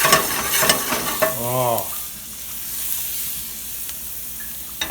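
Garlic browning in a frying pan sizzles and crackles steadily, with stirring scrapes near the start. A brief voiced exclamation cuts in once early, then the hissing fry goes on alone.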